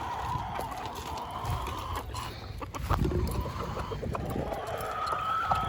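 Backyard chickens and roosters cluck intermittently at close range, with scattered outdoor clatter and a faint voice in the background.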